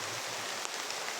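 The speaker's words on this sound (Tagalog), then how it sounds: "Sobrang ulan guys kaya dito muna kami" Heavy rain falling steadily as a dense, even wash of noise, loud and continuous with no pauses, with no voices over it.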